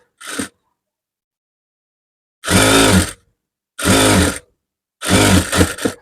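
A sewing machine stitches fabric in a tailoring class, running in three short, loud motor bursts separated by silence, after a brief initial whir.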